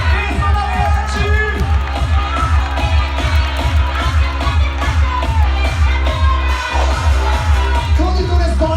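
Fans cheer at the start of the fourth group's race, a loud, unbroken din of crowd noise driven by steady, pounding rhythmic beats throughout.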